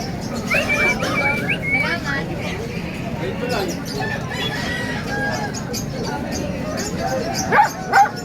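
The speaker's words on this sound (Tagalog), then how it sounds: "Aso." Dogs, including Shih Tzus and Pomeranians, bark amid a noisy crowd of chatter at a pet market in Bocaue, with chickens clucking and a rooster crowing in the mix.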